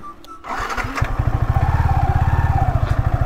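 A motorcycle engine starts and settles into a steady, close, throbbing idle with rapid regular pulses, preceded by brief clatter and faint talk.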